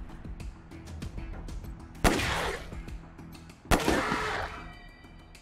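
Gunfire in the Wasteland 3 combat game: two loud, sharp shots about a second and a half apart, each with a crackling, booming tail over a low game soundtrack.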